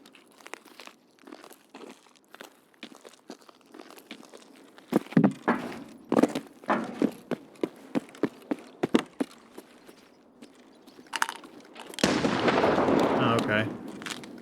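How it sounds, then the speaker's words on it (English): Sharp, scattered blasts and gunfire-like cracks ring out in a first-person shooter game, spaced irregularly at mid-distance, followed by a louder, sustained burst of noise near the end. "I hear these grenades going off"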